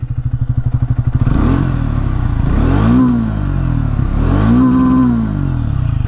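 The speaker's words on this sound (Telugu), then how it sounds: "ఫస్ట్ ఎగ్జాస్ట్ సౌండ్ అయితే వినండి." Exhaust of a 2025 Triumph Speed T4 motorcycle, a loud close idle thumping that rises into two strong revs, each swelling and falling back, with no talking.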